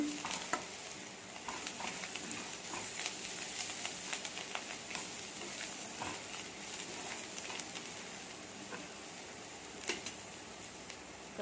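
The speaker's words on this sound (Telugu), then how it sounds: "కొద్దిగా కరివేపాకు కొద్దిగా కొత్తిమీర వేద్దాం ఇప్పుడు ఒకసారి బాగా కలపాలి" Beans and tomato with curry leaves and coriander fry in a pan, giving a steady close sizzle throughout with scattered scraping and stirring clicks on top.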